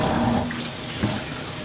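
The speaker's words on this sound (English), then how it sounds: "because I want to keep them hot, I'm going to use hot water" Hot water running from a kitchen tap to rinse cut potatoes for pressure canning, a steady close hiss of flowing water with a brief splash partway through.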